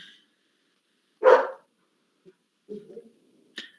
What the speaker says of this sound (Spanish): disculpar los ladridos. El perrito está medio alteradito.